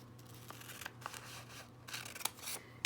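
Scissors cutting open a folded paper pattern, a series of soft, close snips and crisp paper crunches over a faint background hum, with a sharper cut at the end.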